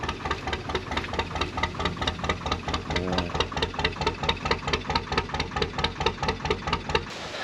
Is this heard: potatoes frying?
no